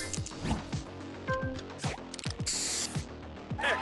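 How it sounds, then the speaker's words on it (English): A spray booster effect in a match-3 video game, made of a rapid string of sharp synthetic whooshes and mechanical clicks, ending in a bright, loud hissing spray burst. "Booster ready. Spray this."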